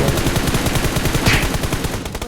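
Rapid bursts of automatic gunfire in PUBG Mobile rattle continuously, loud and close, with a sharp burst of noise partway through and no talking.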